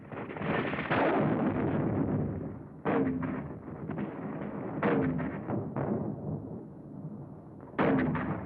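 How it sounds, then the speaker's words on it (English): World War II artillery fire in the battle at San Pietro, Italy, with heavy booming blasts and rumbling reports landing in irregular succession, loud and dense, some sharp impacts standing out over a continuous roar of bombardment. "Our own artillery was brought to fall within 100 yards of our front line elements."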